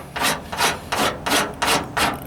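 A shaper file rasps over Bondo body filler on the driver's side wheel arch of a 1998 Ford Ranger, six close, even strokes in a steady back-and-forth rhythm with no talking.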